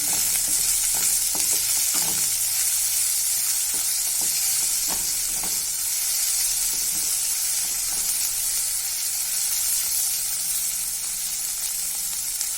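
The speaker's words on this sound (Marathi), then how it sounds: "कांदा लवकर तळला जावा" Onion frying in a pan with salt added gives a steady bright sizzle, close and continuous, with occasional soft stirring taps.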